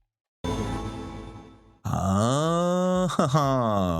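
A sharp music hit rings out with a long reverberant echo tail, loud and alone, with a second brief accent near the end.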